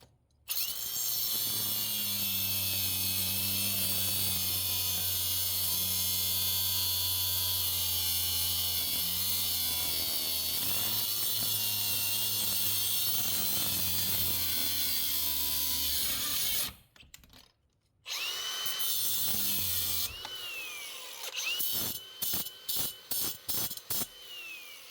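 A power tool whines loud and steady for a long run, cutting the head off a bolt for a Honda Prelude interior job, then stops and returns in short choppy bursts.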